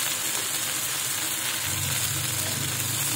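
Finely chopped garlic sizzles in a frying pan with ghee and chopped tomato, a loud, dense, continuous frying hiss heard up close with no talking.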